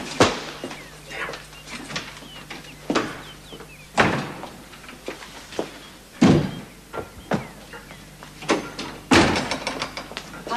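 Door slams and bangs inside a house in a 1970s BBC period drama, several loud sharp thuds spaced across the clip with quieter knocks and rustling between them.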